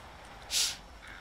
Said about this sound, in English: Sorry, I got the sniffles.